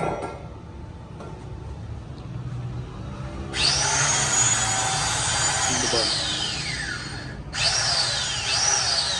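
An electric masala grinder, a household-and-commercial model, runs in two loud bursts with a high whining motor tone that sweeps downward as it spins, over steady workshop background noise.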